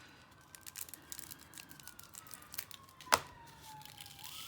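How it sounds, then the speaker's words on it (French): A faint, distant ambulance siren passes along a street, its wail sliding gradually lower in pitch, over a quiet background with one sharp click partway through. "C'était le bruit d'une ambulance."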